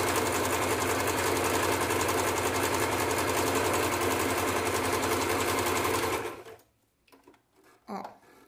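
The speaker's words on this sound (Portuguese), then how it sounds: "eu vou ligar minha máquina e vai fazer o ponto decorativo aqui" A sewing machine stitches a decorative pattern in a steady, loud, continuous whir for about six seconds, then stops abruptly, leaving quiet with a faint brief knock near the end.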